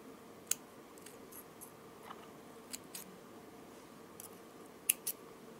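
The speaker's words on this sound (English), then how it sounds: "I will cut the thread." Scissors snip jewelry thread on a handmade necklace, giving a few faint, close clicks spread across a quiet stretch.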